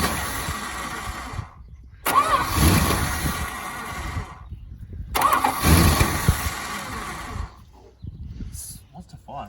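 A car engine with fuel poured down the carburettor cranks over in two or three strained bursts with pauses between, close and loud, followed by quieter churning.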